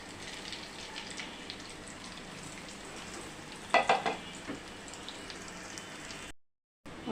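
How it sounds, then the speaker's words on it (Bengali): Kebabs frying in hot oil as a steady hiss and sizzle, with a brief burst of louder crackling midway, then a moment of silence near the end. "তেলটা আমার গরম হয়ে গেছে, আমি এখন একটা একটা করে ছেড়ে দিব।"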